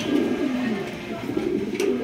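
Pigeons coo steadily at a sale of black Beauty and red Danish pigeons, a low continuous warbling murmur filling the whole stretch at close range, with no one speaking.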